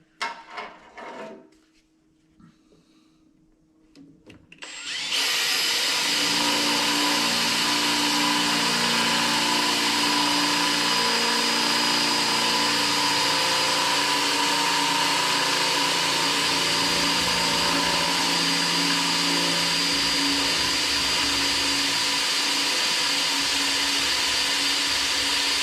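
A power tool cuts through tough steel on a crusher, a loud, steady roar that starts abruptly after several seconds of near quiet and runs unbroken to the end.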